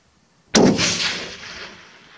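A single long range rifle shot fired at a gopher in Southern Alberta, a sudden loud crack followed by a long rolling echo that fades slowly across open country.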